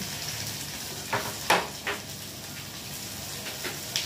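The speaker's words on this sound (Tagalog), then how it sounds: "Siyempre, isunod natin yung sibuyas, guys. Ayan. Igisa-gisa natin yan." Chopped onions, two medium ones, sautéing in a pan with garlic for a home-cooked bitter melon and string bean dish; a soft, steady sizzle runs throughout with a few sharper clatters of stirring, no voices.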